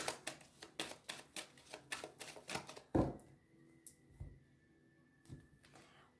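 A deck of oracle cards is cut and shuffled close by in a quiet room, giving a rapid series of soft riffling flutters and slaps, followed by a single sharp tap and a few quieter card sounds.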